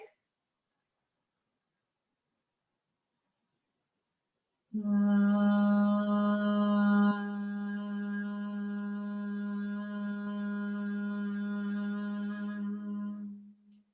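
Bhramari humming breath during a yoga therapy class, a long sustained nasal hum at a single pitch held for around nine seconds after silence, close and clear, slightly softening midway.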